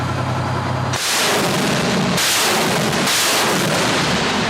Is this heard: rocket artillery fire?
yes